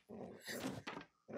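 Dogs in the video game Expendabros give short, low growls and snarls in a few quick bursts, faint and close, with brief gaps between them.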